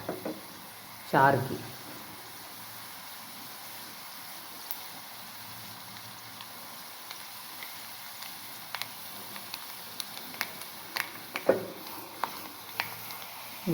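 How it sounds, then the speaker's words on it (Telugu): Onions frying in a pan for rasam, a faint steady sizzle running throughout with occasional light knocks and clicks, and a brief spoken word near the start. "చూసారా, కొంచెం ఉల్లిపాయలు ఫ్రై అయ్యాయి."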